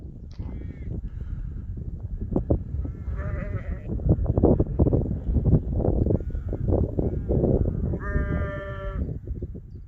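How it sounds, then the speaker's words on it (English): Sheep on a farm bleating repeatedly, several overlapping nearby calls over about ten seconds, mixed with harsh cawing from crows and a busy outdoor background. "As you can see, it's a sheep farm."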